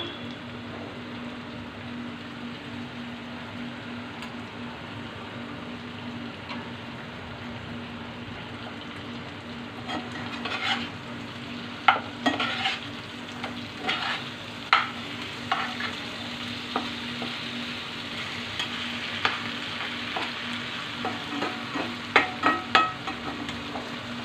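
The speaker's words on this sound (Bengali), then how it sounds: "এভাবে মাছ ভাজি করে খেয়ে দেখবেন" Fish fries in a pan with a soft, steady sizzle that continues throughout. About halfway through, louder scraping and clattering strokes of stirring begin and sound close.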